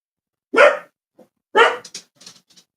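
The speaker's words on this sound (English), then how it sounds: "The dog heard something." A dog barks twice, loud and close, with a second of quiet between the barks, followed by a few short, faint yips and rustles.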